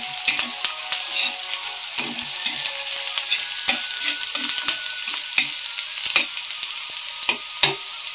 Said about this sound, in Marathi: कांदा भाजून घ्यायचा लालसर होईपर्यंत।